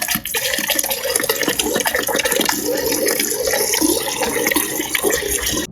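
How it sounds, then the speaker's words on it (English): Water runs steadily from a refrigerator dispenser through a newly installed replacement water filter, a continuous broadband rush with no pauses, fairly loud and close throughout. "it's suggested to run the water for about 3 gallons or about 5 minutes just to get all the water running through it"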